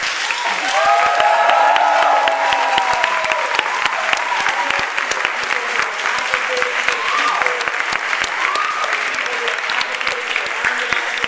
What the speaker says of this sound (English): So I just want everyone in the room to give a warm clap for those sex workers.